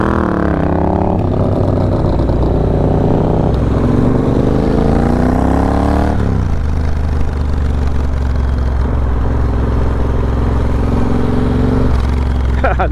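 An old motorcycle engine runs loud and close, revving up and dropping back to a rough, clattering idle several times over a steady mechanical drone.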